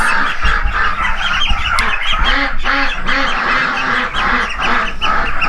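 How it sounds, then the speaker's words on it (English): Young ducklings of a Pekin and Campbell mix call up close in a pen, a busy run of repeated quacks and peeps with no talking. "Look at these cute little baby duckies."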